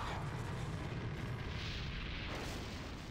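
A nuke rocket launching in Garry's Mod, a steady low roaring rumble of thrust that holds loud and continuous throughout with a faint rising hiss.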